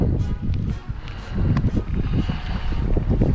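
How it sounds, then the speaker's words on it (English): Wind gusting across open water during wade fishing for trout at Galveston, Texas, a steady loud rush with buffeting close to the microphone throughout. "Y'all hear the wind, y'all hear it, right? It's blowing."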